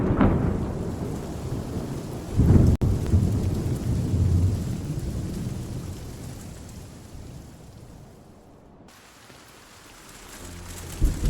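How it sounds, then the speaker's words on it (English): A brewing storm with steady rain hitting surfaces and low rolling thunder, a heavy rumble swelling early then fading into a softer patter near the end; no voices. "I guess the storm's brewing."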